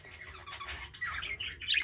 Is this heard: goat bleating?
no